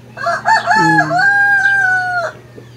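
A rooster crows once, close and loud, a long harmonic call that rises, holds steady, and cuts off, with a low steady hum beneath.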